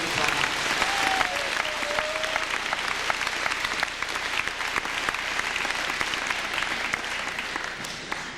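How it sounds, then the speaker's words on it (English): At a high school awards assembly, a crowd in a large room gives a sustained round of even, bright clapping for a student organizer, fading slightly toward the end, with a brief faint whistle-like tone early on. "So a round of applause, please, for Darla for all the hard work she put into prom."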